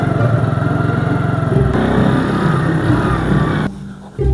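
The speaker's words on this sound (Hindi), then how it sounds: "मुझे तो कोई मोटरसाइकिल की आवाज लग रही है।" A motorcycle engine putters and drones steadily, loud and close, with a rough rhythmic low rumble that shifts partway through.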